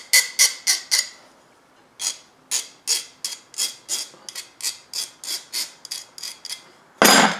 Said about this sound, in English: I want to take a file and I want to bevel the outside on the end.